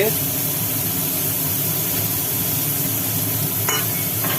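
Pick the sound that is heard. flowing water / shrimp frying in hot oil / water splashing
shrimp frying in hot oil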